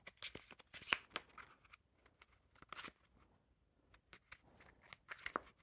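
Blue foil Jerry's Nugget playing cards being shuffled in the hands, giving quiet bursts of riffling and snapping at irregular intervals, with a few brighter crisp flicks standing out over a soft background.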